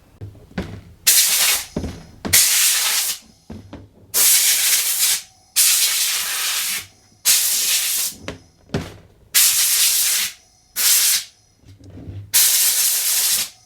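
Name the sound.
air compressor blowing air on keyboard parts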